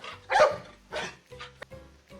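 A small dog barks several times in short separate yips, close and fairly quiet, with brief pauses between the barks.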